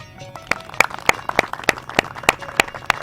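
An audience at a Potohari stage show claps in a slow, even rhythm, a series of about ten sharp, loud hand claps spaced regularly apart, with faint background murmur.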